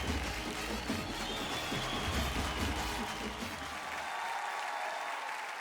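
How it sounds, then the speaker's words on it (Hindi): A studio audience at a televised talent-competition show applauds loudly and continuously, a broad roar of clapping that fills the room and tapers slightly toward the end. "एक बार जोरदार तालियां हो जाए।"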